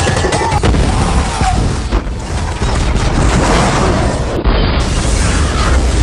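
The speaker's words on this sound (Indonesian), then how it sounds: "bom pun meledak" A loud, heavy explosion roars and rumbles continuously for several seconds, dense and booming throughout.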